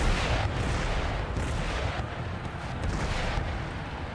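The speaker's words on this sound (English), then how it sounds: "They're directly upset they've been hit by artillery fire." Artillery fire in the Empire Total War video game, dense booming cannon volleys and rumbling impacts rolling continuously and loud throughout.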